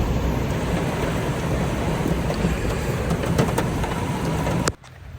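Heavy rain pounding on a parked car, heard from inside as a steady, dense roar that cuts off abruptly near the end.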